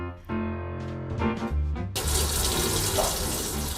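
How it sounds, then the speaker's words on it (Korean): Scallions (jjokpa) being rinsed under a running kitchen tap while making pa-kimchi: a few tonal notes come first, then a loud, steady gush of tap water begins about halfway through and continues to the end. "먼저 쪽파를 깨끗이 씻어주겠습니다"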